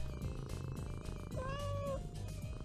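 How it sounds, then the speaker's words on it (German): A single drawn-out cat meow in the Thief Simulator 2 video game sounds over a steady rhythmic background bed. "Miau."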